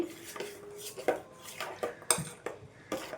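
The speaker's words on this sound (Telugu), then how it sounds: "ఇవి వేసేసుకొని మొత్తం కూడా మంచిగా కలిపేసుకోవాలి." A spoon stirs cumin and coriander powder into a horse gram mixture in a metal pot, with repeated light clinks and scrapes at an uneven rhythm, close and fairly quiet.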